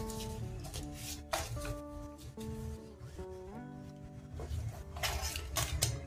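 Scissors snip through petticoat cloth for a six-piece petticoat: short crisp cutting bursts recur irregularly, close and clear, over continuous tonal background music.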